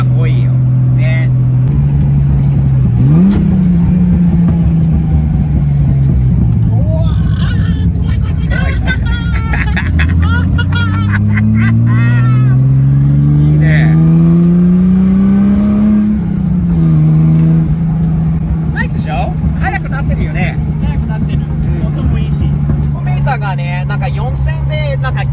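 A heavily lowered Nissan Fairlady Z S30 engine drones loudly from inside the car, dips, then climbs steadily in pitch while accelerating before levelling off, its revs said to stall around 4000; people talk over it.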